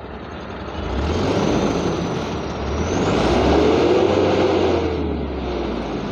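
A heavy truck of about 10 to 12 tons, with a small air tank, strains to pull away while rolling backward. Its engine roars loud and close, swelling and easing under a steady rumble, with no talk.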